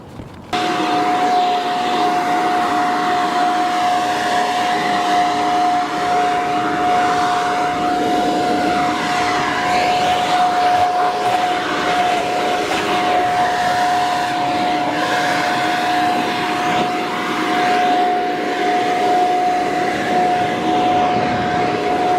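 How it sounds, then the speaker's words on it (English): A leaf blower clears debris off a roof during flashing replacement, a steady, loud, close-up whooshing roar with a constant whine that runs unbroken for over twenty seconds. "I want to get out my blower and I want to blow this all clean"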